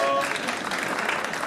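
An audience in a comedy club at a stand-up show claps hands together, a dense burst of applause lasting briefly and evenly loud throughout.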